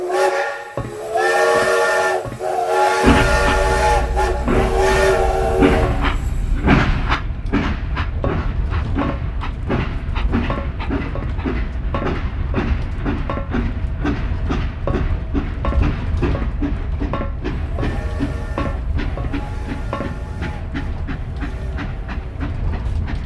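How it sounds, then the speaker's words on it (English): An old train sounds a loud, sustained steam whistle and then starts to move, building into a steady, rhythmic clickety-clack of wheels over rail joints that carries on, loud and close. "we'll get this here train a-moving"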